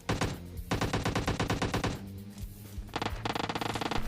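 Automatic gunfire in a battle royale video game fires in three rapid bursts of sharp, evenly spaced shots, loud and close, with a short gap between each burst and no talking.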